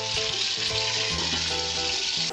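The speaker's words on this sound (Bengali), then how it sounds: "একবারেই মাছটা দিয়ে দিলাম মাছটা আমি ঢাকা দিয়ে দিয়ে রান্নাটা করব" Desi magur catfish for a light Bengali curry sizzles loudly in a hot pan, a dense, close, continuous hiss that holds steady until it cuts off near the end.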